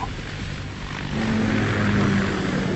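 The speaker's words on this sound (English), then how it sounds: "K-60 Kasatka. Kasatka? Kamov chopper, right?" A Kamov K-60 Kasatka helicopter in Metal Gear Solid 2, a steady rotor and engine drone that swells louder midway and holds a whining tone, with no talk.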